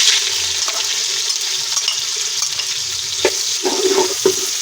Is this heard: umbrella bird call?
no